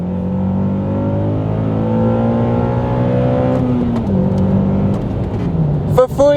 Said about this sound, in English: how to make your Accord sound like this.